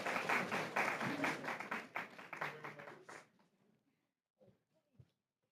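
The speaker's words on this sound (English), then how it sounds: "Let's give them another round of applause" Audience applause at a school board meeting: a few seconds of steady clapping that fades out, followed by faint scattered taps and near silence.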